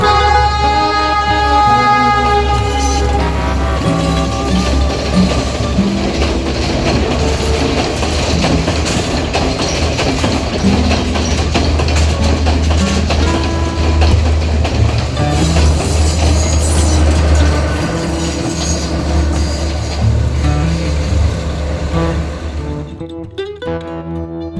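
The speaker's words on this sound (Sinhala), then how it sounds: "මේ 12:45ට එන කෝච්චිය අද ආවේ නම් 1:20ට විතර." A train rolls past on a railway line near the Meeyan Ella waterfall at Ihalakotte, with a loud, steady rumble and clatter throughout that cuts off abruptly near the end.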